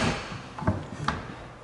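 A kitchen drawer beside the stove slides and bumps shut with two short wooden knocks in quick succession, close and moderately quiet.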